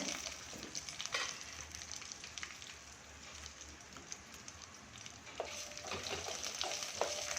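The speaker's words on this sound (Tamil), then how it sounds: "இது நல்லா செவந்து பொன்னிறமாக மாறுற வரைக்கும் நம்ம மிதமான தீயில் வச்சு வதக்கி கொடுப்போம்" Steady sizzling and crackling of small onions sautéing in oil over a medium flame, with occasional stirring scrapes, moderately quiet and continuous.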